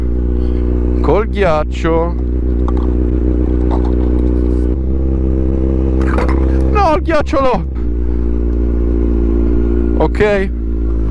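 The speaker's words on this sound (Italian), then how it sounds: "C'è la moto che va un botto" A motorcycle engine drones loud and steady throughout, its low idling hum running under close conversation, with brief clinks and rustles during an aperitif on the bike.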